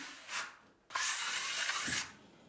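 A Théard Squaliss smoothing blade scrapes over fine plaster smoothing filler, first a short swipe, then a longer continuous scraping pass of about a second, close and moderately quiet.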